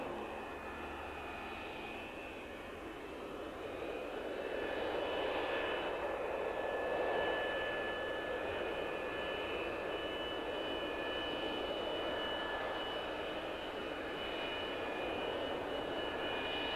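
Unpainted F-15 Streak Eagle jet on a snow-covered runway, its engines giving a steady whining roar with a broad rushing hiss that swells slightly partway through, heard at moderate distance.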